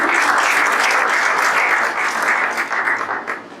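Church congregation applauding, a loud, full wash of many hands clapping that holds steady, then thins and fades slightly near the end.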